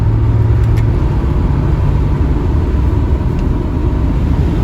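A 1971 Triumph GT6 engine drones steadily at cruising speed in top gear with overdrive, constant road rumble, loud and close, no voices.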